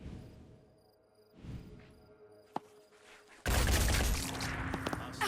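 Weapon shots from the Phoenix Point video game: a sharp single crack, then a loud dense volley of gunfire that keeps going to the end amid other game sounds.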